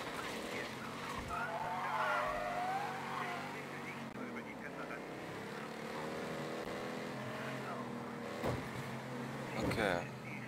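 A car in the video game Mafia 3 drives and skids, its engine revving and tires squealing in long sweeps, with a sharp crash-like burst near the end while someone talks over it in German.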